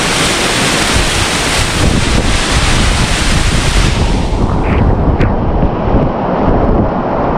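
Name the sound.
waterfall rushing water, standing in the middle of the waterfall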